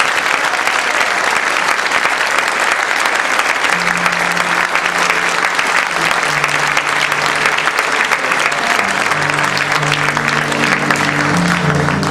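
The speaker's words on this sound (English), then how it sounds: "will you put your hands together and give a raptor swell of applause for Mr. Brendan Dunny." Loud, sustained applause from a large audience, steady clapping throughout with a few faint tonal sounds creeping in toward the end.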